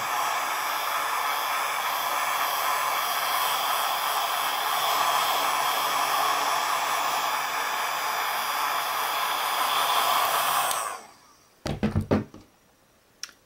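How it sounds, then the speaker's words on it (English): A heat gun or blow dryer slowly warms the metal part of a Huawei Fusion U8652 phone during a digitizer screen repair, a loud steady close whoosh of blown air that cuts off, followed by a few quick knocks and thuds. "take your heat gun or your blow dryer and slowly heat up this metal part with it"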